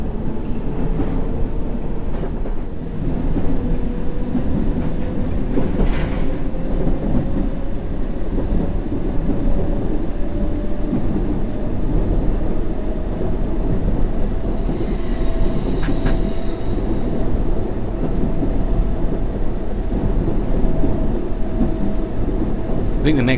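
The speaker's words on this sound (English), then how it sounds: "There's our train leaving the station" A London Underground train in the game World of Subways 3 runs steadily with a low rumble and a rising whine of motors, wheels squealing faintly partway through; occasional speech over the top.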